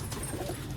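A pigeon coos softly and steadily at close range among a small group of kabutar being handled, with a continuous low murmur and no talk over it.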